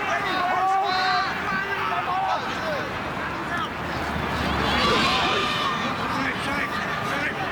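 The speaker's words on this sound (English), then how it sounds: "Great crowd." Large crowd of almost 22,000 at a 2022 NRL rugby league match between Penrith Panthers and Parramatta Eels, a steady, dense roar and murmur of many voices with occasional swells of cheering throughout.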